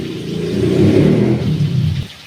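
A Bullet motorcycle passes by, its engine rumble swelling to a loud, throaty low drone and then fading away over about two seconds, with no voices.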